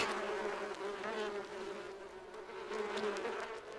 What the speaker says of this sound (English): What the fuck is this spy bee drone bullshit?